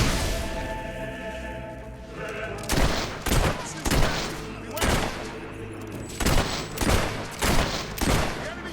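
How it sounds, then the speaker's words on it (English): Enemy gunfire in Fable 3, in the desert: a run of sharp, loud shots, single and in quick pairs, cracking at irregular intervals over a low background hum. "Shooting at us!"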